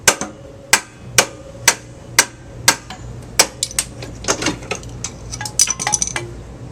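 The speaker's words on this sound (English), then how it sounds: "See if they give it a good whack." A hammer strikes the lower frame of a Honda Goldwing 1200 motorcycle in a garage: about seven loud, evenly spaced metallic whacks, then a quicker cluster of lighter knocks and clinks. No one speaks.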